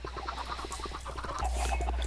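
Video-game chickens cluck in quick, repeated bursts, a busy flock of short fowl calls with no speech over them.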